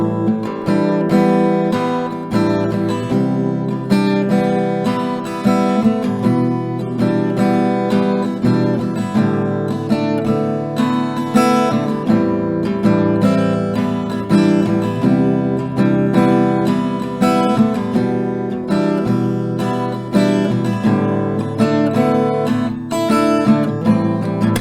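An acoustic guitar strums steady chords while picking out melody notes from a song, in an even, close, continuous rhythm with no voices.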